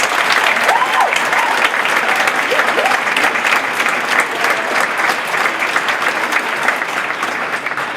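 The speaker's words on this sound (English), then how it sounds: "I think we can give Mom and Dad a round of applause." Sustained crowd applause for parents at a high school end-of-year event, a loud, even roar of many hands clapping that fills the whole stretch without letting up, with a voice briefly audible early on.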